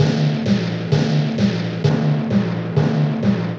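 Distorted timpani hits loop at a steady pace, around eight heavy strikes about half a second apart, now with the high-mid boost taken out so the tone sits darker and rounder, loud and alone.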